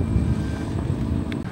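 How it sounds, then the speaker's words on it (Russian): Strong wind buffeting outdoors on a summer street in Klaipėda, Lithuania, a loud continuous broadband roar with gusty rumble, heard close and alone without talk. "Фига себе, ветер."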